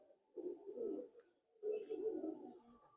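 A Madrasi pigeon gives two soft, close cooing phrases, each a low throaty burble lasting about a second, separated by a brief quiet pause.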